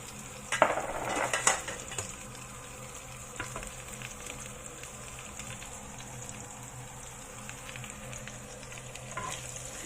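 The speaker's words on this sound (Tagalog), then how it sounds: "I-fry na natin ang ating ingredients" Chopped garlic and other ingredients for a chicken dish fry in a pan, a steady close sizzle with a louder burst of stirring and utensil scrapes near the start.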